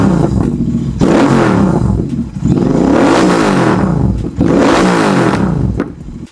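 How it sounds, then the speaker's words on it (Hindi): A loud modified exhaust on a Royal Enfield Continental GT650 motorcycle revs up hard three times, each burst rising then dropping back to a rumbling idle, close and alone. "एक बार यार एग्जॉस्ट साउंड तो सुनना बनता ही है ना यार"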